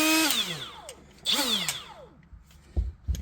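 A Milwaukee M12 FDGA2-0 Gen 2 cordless die grinder whines up to speed and spins down twice in quick succession, each run a sharp rising then falling whir, followed by a few soft clunks.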